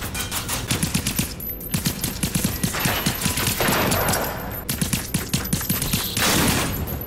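Rapid automatic gunfire in a video game, loud and close, fired in long rattling bursts with brief gaps between them, and nobody talking.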